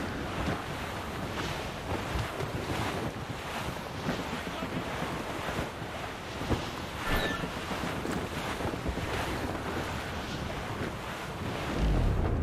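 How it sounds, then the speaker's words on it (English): Wind at sea in the video game Assassin's Creed Rogue: a steady, loud rush of gusting air and surf around a sailing ship, continuous throughout with a slight swell at the end. "I don't like that wind, sir!"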